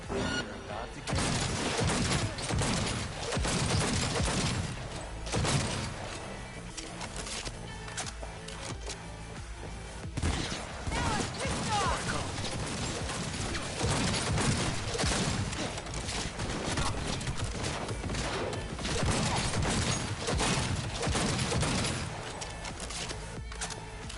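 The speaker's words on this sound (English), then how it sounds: "I am taking fire." Sustained enemy gunfire from the Cyberpunk 2077 video game, dense bursts of shots rattling continuously and loudly throughout, layered over busy combat noise with a voice speaking at times.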